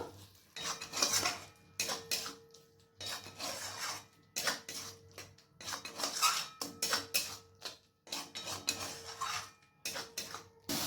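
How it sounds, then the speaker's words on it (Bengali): A spoon scrapes and clanks against a pot as tomato paste is mixed into mutton for a mutton and kabuli chana curry, in rhythmic bursts of rasping metal strokes separated by short pauses, close and moderately loud, no speech. "টমেটো পেস্টটাকে মাংসের সাথে ভালো করে মিক্স করে নেব।"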